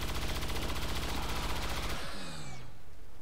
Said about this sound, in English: just shoot it then